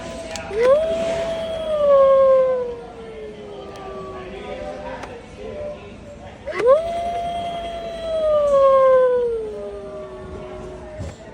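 Two long, drawn-out electronic howls from animatronic Halloween dogs at a Home Depot store, each rising then slowly falling, repeating with a pause between, over faint background chatter.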